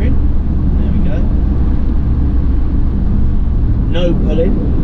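Ford Transit tipper truck driving during a steering test, a loud steady low engine and road rumble from inside the cab, with brief faint squeaks and a voice speaking over it.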